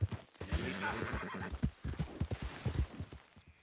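A horse whinnies, then hooves clip-clop in a quick, close rhythm while riding in the Red Dead Redemption 2 video game, with no talk.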